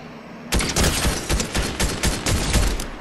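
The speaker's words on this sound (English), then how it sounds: "You're getting sniped from somewhere." Rapid bursts of video game gunfire with sniper shots, loud and dense for about two and a half seconds after a brief quiet start, with no talking.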